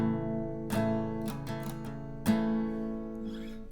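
Acoustic guitar playing part of a song slowly, with a few strummed chords and a hammer-on, each ringing out clearly and close, with no talk.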